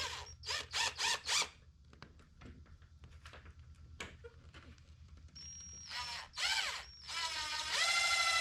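Short whirring bursts of a power drill driving screws into a pre-drilled wooden wall frame for a treehouse door wall, several quick pulses at the start, then quieter handling, then longer, louder runs building toward the end.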